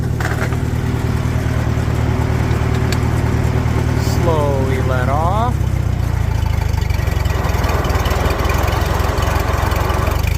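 Old McCormick-Deering 10-20 tractor engine runs steadily with its belt pulley engaged, a loud continuous low chugging throb throughout, while someone speaks briefly over it.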